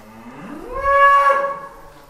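Cattle being weighed as sacrificial cows for Qurban 2025 at a farm scale give a single long, loud moo that rises in pitch and holds steady before fading, heard alone without talk.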